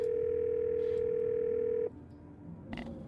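A steady phone dialing tone from a call attempt in Scarlet Hollow holds for about two seconds, then cuts off, followed by a faint click and quiet line hiss.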